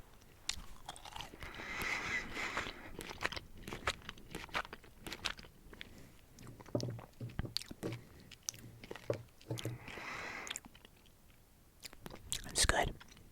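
Raspberry fruity gummy candies chewed close to the microphone, soft wet chewing and squishing with occasional crunchy bites, quiet and intimate, with faint whispering in places.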